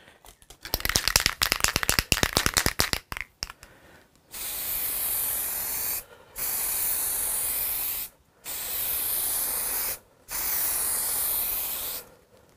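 Finish being sprayed in light coats onto a Hofner Galaxie guitar during restoration, a rapid rattling of the can shaken first, then four steady hissing bursts of a few seconds each separated by short pauses, close and loud.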